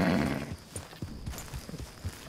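Horse hooves clip-clop at a steady walking rhythm in the Red Dead Redemption 2 video game, a run of close, distinct hoof strikes under a faint background hum, with no talking.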